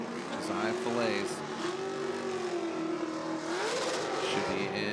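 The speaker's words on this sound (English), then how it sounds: "Yes, you can hear the car revving up." A Formula Drift race car engine revs hard and steadily at a knockout qualifying round, its high, sustained whine rising and falling through the clip, with crowd noise and a commentator's voice mixed underneath.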